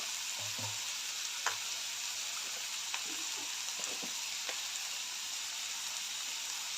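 Onion and tomato with turmeric and salt sizzle in a pan for a ghevda bhaji, a soft steady frying hiss with occasional faint stirring clicks.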